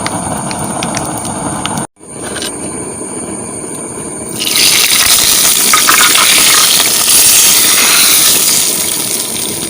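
Hot coconut-oil tempering poured into kokum rasam: after a brief drop to quiet, a loud, steady, close hiss of sizzling swells up and carries on for several seconds without voices.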